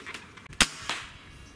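A single sharp .30 caliber air rifle shot from a Gamo Swarm Magnum or Hatsan 135, a crisp crack followed by a softer secondary report a moment later, with no talking.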